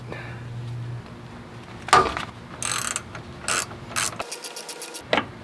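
A nut being spun off the top of a shock on a 5th gen Toyota 4Runner while the shock is held with channel locks, during an Ironman 4x4 FCP suspension install: close, intermittent bursts of ratcheting clicks separated by short pauses.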